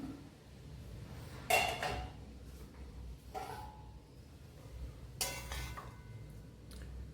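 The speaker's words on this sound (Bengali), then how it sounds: "এবার ঢাকনা খুলে দিই" A pot lid lifted and a plate handled in a home kitchen: a few sharp metallic clinks and clatters spaced apart over a quiet background, close and moderately loud, with no voices.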